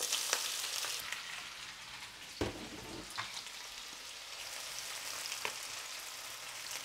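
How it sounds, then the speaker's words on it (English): Onion frying in a pan for okra sabzi (bhindi) gives a steady, close sizzling hiss with a few sharper crackles and stirring scrapes, and no talking. "So first we're going to add the onion."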